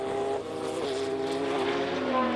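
Group C/GTP sports prototypes racing at Donington, among them a Bud Light Jaguar, an RLR Porsche 962 and a C2 Spice, engines droning loudly in a sustained, rising and falling tone as the cars pass, with commentary over the top.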